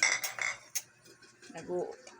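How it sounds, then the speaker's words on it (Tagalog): Glasses and spoons clinking as a child washes them at home, several sharp clinks and knocks of glass and metal up close, with soft handling sounds between. "naguhugas ng mga baso at saka kutsara"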